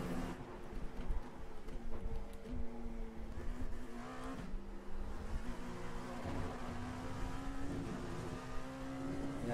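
Dallara LMP2 race car engine in the iRacing video game, a steady high whine that rises and drops with gear changes and throttle through corners, fairly quiet and heard alone.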